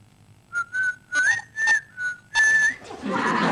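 A person whistles a short tune alone, a series of clear rising and falling notes in separate bursts, close and fairly loud, ending in a brief rush of breathy noise.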